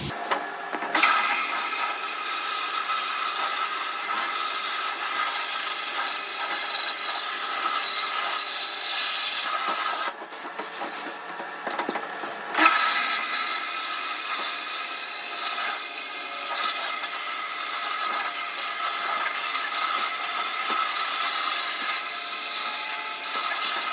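Media blasting of Honda 200X three-wheeler triple clamps and front hub gives a loud, continuous hiss of abrasive spray, broken once by a short pause before the blast resumes.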